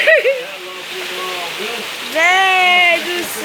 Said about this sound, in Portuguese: Olha o tanto de água que tá caindo aqui.